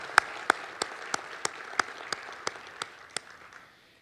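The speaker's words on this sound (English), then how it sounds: "Let's give them a round of applause." Applause at an awards ceremony, heard as sparse, distinct claps in a slow, steady rhythm. It is fairly faint and thins out over about four seconds.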